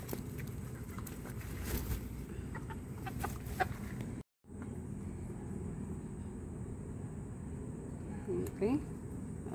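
Chickens cluck in short bursts over a steady background hum, with a brief dropout midway and a few sharper calls near the end.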